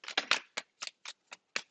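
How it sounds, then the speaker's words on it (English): Tarot cards shuffled and drawn close up in a quick series of sharp, papery flicks and slaps, about eight distinct snaps with short gaps, quiet and isolated with no voices. "Let's get a couple more cards out."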